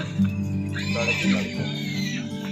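At the Dewa fair horse market, a horse lets out a rising and falling whinny in the middle of the stretch, set against the constant hum and chatter of the crowded fairground.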